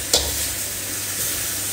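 Free-range chicken being stir-fried in a pan in Korat style: a steady sizzle with a brief scrape of stirring near the start, close and continuous, no voices.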